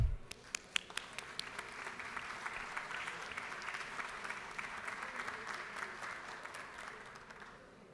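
Warm applause fills the Georgia House of Representatives chamber as a visiting group in the gallery is welcomed, starting with a few sharp claps, swelling into sustained even clapping, then easing off toward the end.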